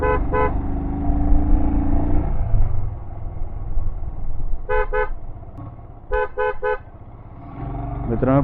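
A car horn sounds on a rough, winding mountain road near Mahabaleshwar, given in several short toots: a quick pair near the start, another pair midway and a triple burst later, all over a steady engine and road rumble.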